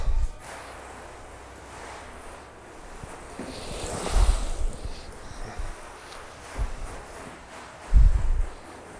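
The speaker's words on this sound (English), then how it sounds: "let me put some little more water on the top of this box" Water poured from above onto the top of a worm bin box outdoors, a soft broad splashing hiss that swells in a few bursts amid wind-like rustle.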